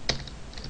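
A single quick keystroke on a computer keyboard, faint and close, a short click in a quiet room.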